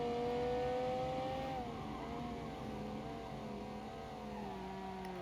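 A race car accelerating on a track in the Automation game, its engine note a strong steady tone that dips at a gear change and then climbs again, loud and alone throughout.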